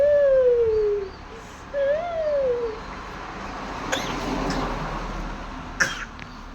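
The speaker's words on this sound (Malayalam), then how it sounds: "ആ ചുമക്കുന്നു." A baby girl coos softly, then coughs a couple of times in short, close, fairly quiet bursts indoors.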